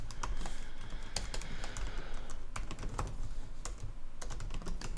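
Rapid typing on a computer keyboard during web coding, dense irregular key clicks running continuously, close and loud with no voice.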